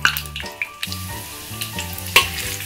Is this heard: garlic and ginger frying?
yes